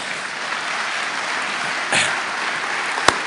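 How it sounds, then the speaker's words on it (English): Audience applause for a panel speaker at an agricultural green revolution alliance conference, a steady wash of clapping throughout with a brief louder swell and one sharp clap near the end. "So please give him another round of applause."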